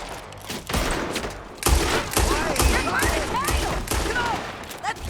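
Shootout gunfire in Red Dead Redemption 2, a town gunfight: repeated loud gunshots crack in irregular bursts, overlapping with ricochets and shouting voices throughout.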